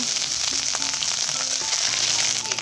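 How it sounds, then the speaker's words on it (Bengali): Grated ginger fries in hot oil with whole cumin, dried red chili and bay leaf, giving a steady, close, loud sizzle that crackles without a break. "গরম হলে এর মধ্যে আমি দিয়ে দিচ্ছি আদা"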